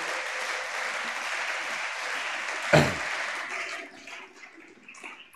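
Church congregation applauding for the Lord Jesus: steady, dense clapping of a large crowd that holds through most of the moment, with one sharp loud clap near the middle, then thins out and fades toward the end.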